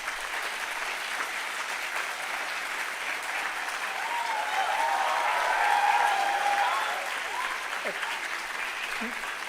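Parents applauding at a university convocation in a hall, sustained crowd clapping that swells in the middle and continues steadily, with faint voices mixed in.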